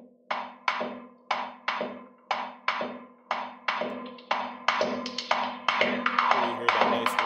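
Door dripper sound effect patch from Omnisphere 2 Sound FX Vol 1: a steady series of sharp tapping hits with a low pulsing hum beneath, the knocks growing denser and more layered toward the end.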